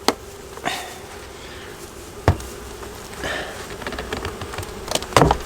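Bees buzz faintly as a beehive is opened, with a thin hum under scattered knocks and scrapes from the hive parts and one sharp thump.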